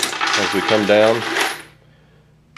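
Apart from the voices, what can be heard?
Hornady Lock N Load AP case feeder dropping a case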